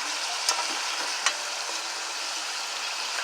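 Onion and garlic going into a pot of browned, sizzling oxtail, a steady close frying hiss with a couple of brief sharp crackles near the start, no voices.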